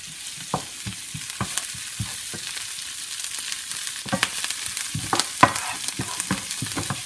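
Garlic and parsley sauté in a pan with salmon, a soft steady sizzle broken by scattered scraping and stirring clicks from a utensil, close and moderately quiet, with no talking.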